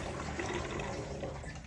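Water gushes steadily from the tap of a homemade portable sink and drains into its tank, a constant close rushing flow with no talk over it.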